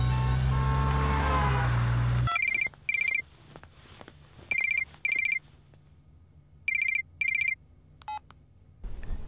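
A phone ring tone sounds in short paired bursts with pauses between them, after a loud musical intro, over low background hum.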